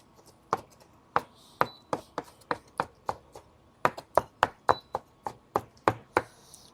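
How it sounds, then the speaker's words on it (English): A knife rough-cuts pearl oyster mushrooms on a cutting board in two bursts of steady, sharp taps, close and crisp, with a short pause between. "I'm gonna rough cut my mushrooms here."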